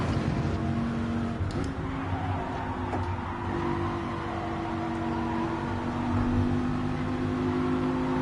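A race car in the Gran Turismo 7 video game, during a daily online race, drones with a steady, sustained engine tone that seems to bog down as it accelerates, with no talk over it.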